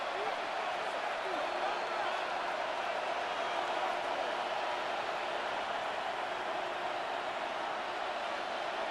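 Stadium crowd noise in the American football game Madden NFL 26, a steady distant roar of spectators held at an even level with no clear peaks.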